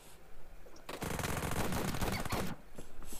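Rapid automatic gunfire in the video game PUBG rattles out in a dense burst of about one and a half seconds, loud and close, with quieter game ambience before and after.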